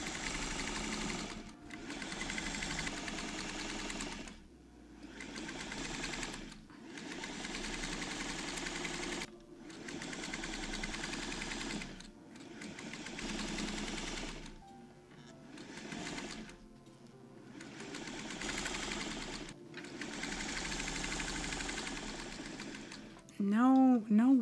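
A sewing machine stitches quilt rows together in repeated loud runs of rapid mechanical whirring, separated by brief pauses, close by, with a voice speaking at times.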